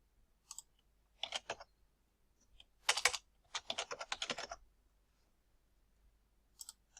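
Computer keyboard typing in short bursts of clicking keystrokes, close and fairly quiet, with gaps of silence between bursts and no talking.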